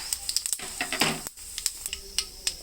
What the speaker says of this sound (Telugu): ఆయిల్ కాగినాక తాలింపు దినుసులు వేసుకోవాలి